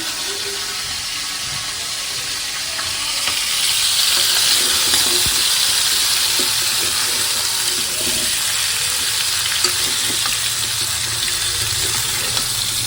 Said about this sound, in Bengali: এদিকে মাছটা ভেজে রেডি করে নিচ্ছি